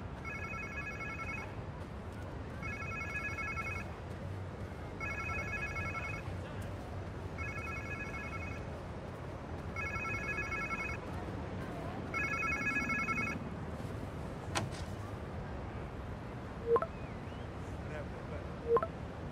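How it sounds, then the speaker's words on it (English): A phone rings in repeated double bursts in the video game Marvel's Spider-Man 2, about six rings at a steady rhythm over a low background rumble, then stops, followed by a few soft clicks. "Sounds like somebody's phone."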